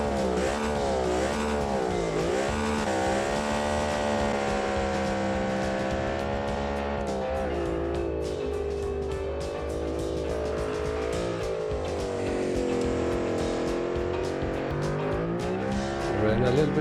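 Turbocharged race car engine in a driving video game revs hard, its pitch climbing and dipping through gear changes with rising boost, continuous and loud, while someone talks over it.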